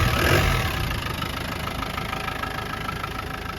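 A 1991 Land Rover Defender 90 with the 200Tdi diesel engine idles close by, giving a steady, even rumble with a faint rhythmic diesel clatter and no talk.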